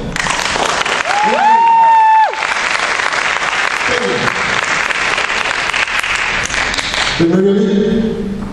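Audience applause for a second trumpet player at a live brass band presentation, a steady loud clapping crowd with a held trumpet note rising over it early on and a brief brass phrase near the end.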